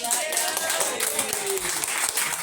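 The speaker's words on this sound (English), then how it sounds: "Can we get a round of applause for" A round of applause at a community get-together, with scattered clapping and cheering from a small group and voices talking and calling out over it.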